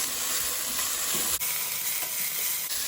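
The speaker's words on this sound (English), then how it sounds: "let's add the ginger garlic and the mint leaves" Ginger garlic and mint leaves frying in a pan for restaurant-style Hyderabadi bagara rice, giving a loud, dense, unbroken sizzle heard close up with a brief dip midway.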